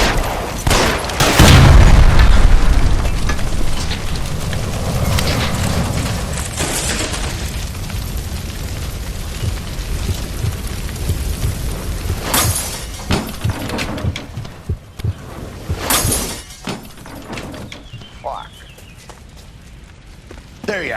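A gas line by a stove explodes in L.A. Noire, a loud booming blast up front that leaves a long rumbling, crackling tail, with scattered sharp bangs and debris hits later and no talking.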